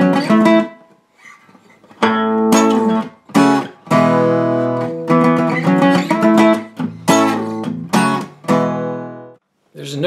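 Guitar chords from a song, each struck four times in short bursts separated by brief pauses, played close and moderately loud with no voices.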